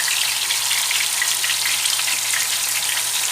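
Sea bream and onions frying in a dedicated fish pan, a steady dense sizzle that holds even and close throughout with no talking.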